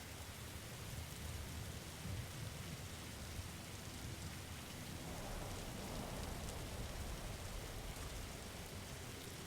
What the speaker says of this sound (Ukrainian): У нас так буде цілий день падати дощ.